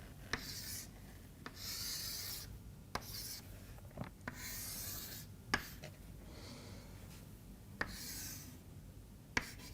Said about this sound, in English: So, let us draw a schematic of that.